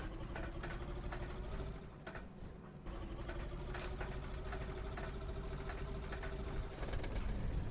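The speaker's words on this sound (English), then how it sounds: "got the engine started" Aircraft engine running steadily in a flight simulator after start-up, a continuous mid-pitched drone with a faint ticking rhythm, fairly loud and alone throughout.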